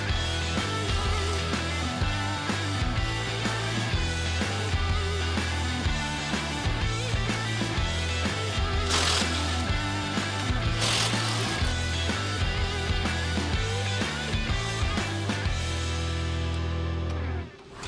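Ratcheting and mechanical clatter from hand tools while the horns and a radiator support centre-beam bolt are removed from a Toyota Prado during an oil cooler install. The sound is dense, loud and continuous, with two sharper bursts partway through.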